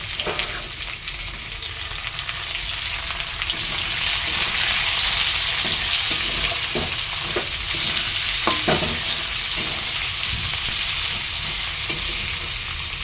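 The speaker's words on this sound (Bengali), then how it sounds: "তো এখানে আলুগুলো আর পেঁয়াজগুলো ভাজা ভাজা হয়ে গেছে।" Potatoes and onions fry in a pan with a loud, continuous hissing sizzle that swells after a few seconds, broken by scattered spatula scrapes and stirring clicks, with no voices.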